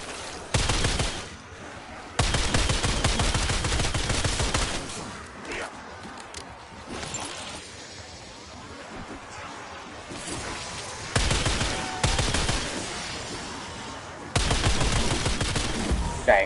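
Video game gunfire tears through the action as a weapon shoots at crawlers, with loud dense bursts of rapid shots broken by short quieter gaps, repeating over about sixteen seconds.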